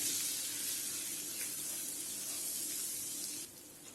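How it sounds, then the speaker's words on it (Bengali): Chili and turmeric powder frying in a pan for a Bengali fish-head curry, a steady close hiss and sizzle with no talk. "মশলাগুলো দিয়ে আমি মশলাগুলো একটু কষিয়ে নিব"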